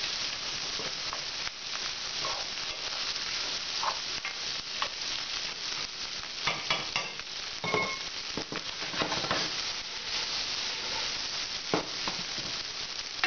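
Rice frying in a hot pan for nasi goreng gives a steady, close hiss and sizzle, broken by scraping and stirring sounds throughout.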